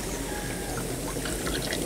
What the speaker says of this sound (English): I can tell by the way it's bubbling there